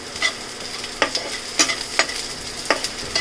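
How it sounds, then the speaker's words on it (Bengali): A bay leaf drops into hot oil to temper lentils with drumstick, and the oil sizzles with a soft, continuous hiss broken by several sharp crackling pops, close and with no talking. "এখন আমি এটা ফোড়ন দিব একটা তেজপাতা দিয়ে দিচ্ছি"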